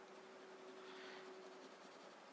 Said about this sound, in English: So I'm pressing my pencil hard here